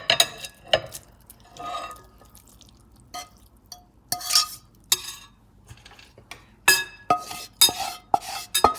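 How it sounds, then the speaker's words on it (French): Spoon stirring and mixing a meat and chard pie filling in a bowl, intermittent scraping and clinking strokes with wet squelches, close and fairly quiet, pauses between bursts. "mélanger le tout"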